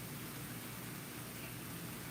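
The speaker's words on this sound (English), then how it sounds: "It's just been off and on rain and a little bit of wind." Rain during Hurricane Ian, a faint, even hiss of drops on surfaces that holds steady throughout, distant and quiet with no speech.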